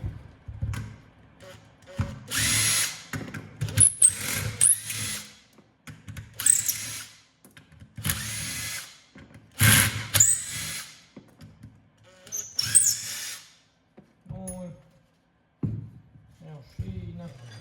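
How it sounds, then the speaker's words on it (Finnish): Bolts being unscrewed with a T40 Torx bit, probably on a snowmobile drive: several short bursts of a power driver whirring close by, separated by pauses, with someone talking in between. "Sitten pyöräytetään 40 torksilla tästä nämä pultit vain auki."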